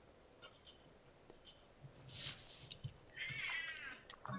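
A cat throwing a tantrum lets out several faint, scattered meows and yowls over a quiet, rattling background, with one longer wavering cry near the end.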